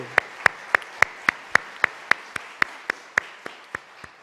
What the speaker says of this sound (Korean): 우리 예수 그리스도께 감사와 찬양과 영광의 박수 올려드리겠습니다.